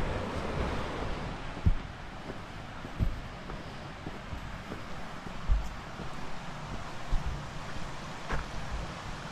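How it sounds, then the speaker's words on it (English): A river flowing along a walking trail on the Pennine Way, a steady broadband rush of water with occasional soft thumps, close and continuous with no talking. "I'm going to enjoy walking along this beautiful river."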